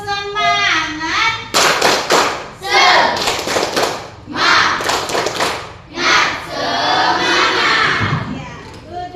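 A class of schoolchildren performs a rhythmic clapping chant, bursts of group hand claps alternating with shouted chanting voices, close and energetic, in several repeated rounds.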